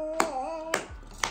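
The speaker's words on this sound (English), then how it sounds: "You wanna clap for mommy?" Three separate hand claps sound at home, close and spaced about half a second apart, with a brief tone held between the first two.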